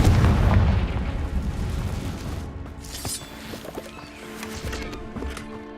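A Confringo fire spell from Hogwarts Legacy bursts in a loud, dense blast that rumbles and crackles, then fades into scattered pops and debris over the next few seconds.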